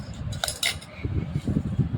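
Bhel puri is being mixed in a dish: a couple of bright metallic clinks of a spoon, followed by soft, dull rustling and scraping of the dry mixture.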